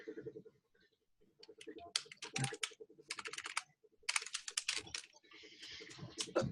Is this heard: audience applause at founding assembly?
no